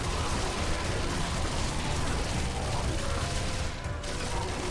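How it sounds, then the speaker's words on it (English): Rapid, sustained automatic fire from a PPSh-41 submachine gun in the Zombie Army Trilogy video game, a dense continuous clatter of shots running throughout with a brief dip near the end. "I mean, this is literally just spraying and praying, because the accuracy on the PPSH-41 is abysmal in this game."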